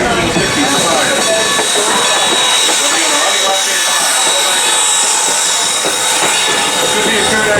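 Steam locomotives, including old number 475 built in 1906 by Baldwin, haul passenger trains on the Strasburg Railroad, giving a steady rumble and hiss with faint clatter of rolling cars throughout, moderately loud, with a voice talking over it.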